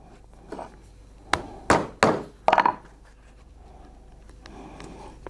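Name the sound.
hammering nails into old tyre rubber footwear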